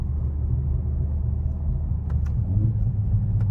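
A car engine rumbles low and steady during a paddle-shift downshift, with a couple of faint pops or clicks, recorded from inside the cabin.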